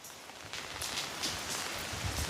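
Rain patters in a soft, steady wash with a few brighter drop splashes, faint and close.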